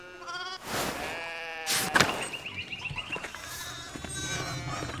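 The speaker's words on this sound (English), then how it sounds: "Going on down here, even more sheep." Sheep in the Pentiment video game bleat several times, loud and close, with drawn-out wavering cries overlapping against a soft ambient background.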